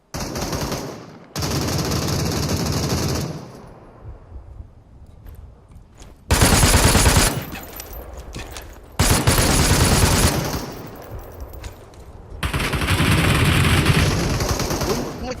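Automatic gunfire in the battle royale game Super People: long, loud bursts of rapid shots in several separate volleys, with quieter gaps of ambient game noise between them.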